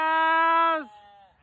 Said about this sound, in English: Hi, cows!